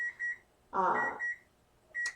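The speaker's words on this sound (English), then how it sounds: "There's our timer." A kitchen timer gives short, high electronic beeps in a loose series, a couple quick ones, then a longer tone and another beep, against a quiet room, with a brief voice mixed in midway.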